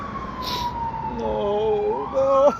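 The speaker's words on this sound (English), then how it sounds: "you can hear sirens approaching" Emergency siren slowly rising and falling in pitch as it draws nearer, a steady wailing tone over a low background rumble, growing somewhat louder toward the end.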